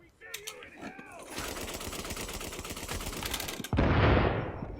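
Rapid bursts of heavy automatic gunfire from a big gun in The Division, a dense rattling stream of shots with a few clicks first and a louder blast near the end.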